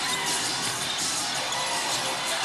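A Barangay Ginebra crowd roars during a professional basketball game in an arena, a dense, sustained wall of cheering and shouting voices that stays loud and even throughout.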